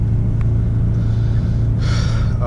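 A rear-wheel-drive BMW with a 4.4 liter V8 and a raspy exhaust gives a loud, steady, close rumble that holds throughout, with a faint rising rasp near the end.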